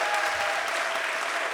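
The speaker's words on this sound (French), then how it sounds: "Un applaudissement pour Daphné." Steady, full applause from the audience at a talk on feminism and fighting the far right, a dense even wash of clapping with no voices over it.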